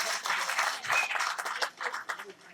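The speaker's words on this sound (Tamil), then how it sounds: "கைதட்டு சத்தத்தையே காணுங்க" An audience at an award ceremony held for a 61st birthday claps in a dense, rustling wash that swells and ebbs, with voices calling out through it.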